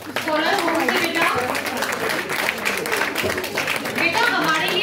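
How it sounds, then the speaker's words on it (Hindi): Scattered clapping from an audience at a school poetry competition for child participants, moderate and uneven, with someone speaking and children chattering over the claps. "तालियां जरूर सबके लिए।"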